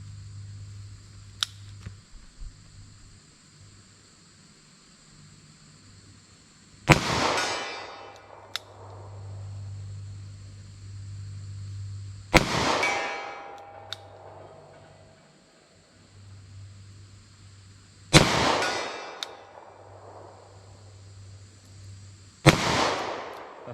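A .38 Special +P revolver loaded with Speer 158 gr LSWC-HP rounds fires four sharp, loud shots spaced about five seconds apart, each with a decaying echo, over a low steady hum.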